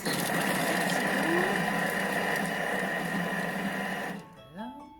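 A Thermomix runs at speed 5, grating and mixing mozzarella with a loud, steady whirring buzz for about four seconds before it stops abruptly, followed by a brief clatter of the pieces settling.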